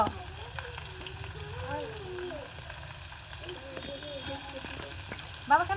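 Potatoes sauté in a pan with turmeric and salt, giving a soft, continuous sizzle at low volume that runs under a woman's speech throughout, with a brief stirring clatter at the end.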